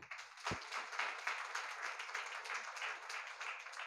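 Audience at a Telugu memorial gathering for a father claps steadily together, a continuous moderately loud patter of many hands lasting the whole stretch, with one brief low thump near the start.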